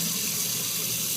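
Hot water gushing from a tap into a sink on a home heating setup, a steady, close, loud rushing flow with no talking.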